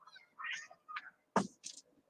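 A cat meowing faintly at close range in a quiet room, giving a few short, separate mews with brief pauses between them and one sharper, louder cry near the end.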